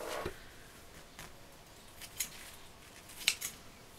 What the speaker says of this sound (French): Donc là, on va couper les deux images qu'on veut.